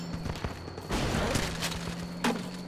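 Grenade launcher fire in the military game Running with Rifles, scattered quiet thumps and distant booms over a steady background hum, with no voices.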